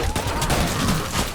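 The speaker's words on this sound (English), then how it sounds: "Alright, let's try the machine gun." Machine gun fire in the video game Utopia 9, a dense, loud, continuous rattle of rapid shots lasting just over a second.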